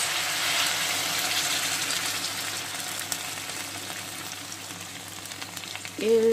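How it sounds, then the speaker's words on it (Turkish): Hot water is poured onto food that has been sautéing for a few minutes in a pan, producing a steady loud sizzle and hiss that carries on throughout, close up. "Üstüne sıcak suyumuzu ilave ediyoruz."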